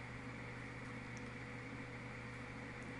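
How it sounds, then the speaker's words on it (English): An iMac working hard gives a steady low hum and fan-like whir in the background, faint and unbroken, with no talking. "You can hear my computer in the background because it's really working on overtime"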